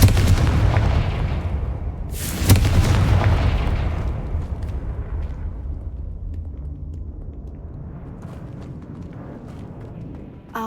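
A Confringo fireball spell explodes in Hogwarts Legacy with a loud, close boom whose rumbling low roar and debris slowly decay over several seconds.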